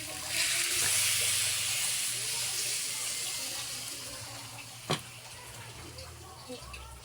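Water pours steadily into a pan for chicken feet cooked with garlic, ginger and pepper, a broad hissing flow that tapers off over several seconds, with a small clink near the end.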